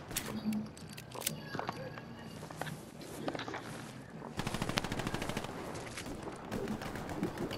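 Rifle and machine-gun fire in the Hell Let Loose video game: a rapid run of close automatic shots with single cracks before it and more distant firing after, plus faint footsteps and no talk over it.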